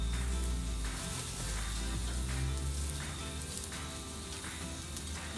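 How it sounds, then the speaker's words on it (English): Bacon frying on an outdoor cooker, crisping in a hot pan: a steady, dense sizzle and crackle that runs loud and unbroken throughout, with no voices. "We just want the bacon crispy."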